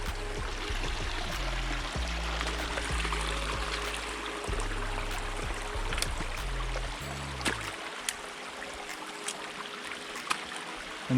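Creek water tumbling over stepped rock ledges after storm damage, a steady close rushing and trickling flow with no talk over it.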